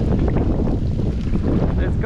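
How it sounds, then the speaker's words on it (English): Loud, steady wind of a storm buffets the microphone from a kayak on open water, a continuous low roar with a brief voice-like chirp near the end. "It's windy too."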